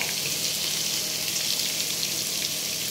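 Potatoes dropped into hot oil fry with a steady, bright hiss, a constant even sizzle close by that holds for the whole moment with no voices.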